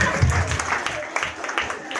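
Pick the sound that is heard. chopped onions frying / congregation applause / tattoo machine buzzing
congregation applause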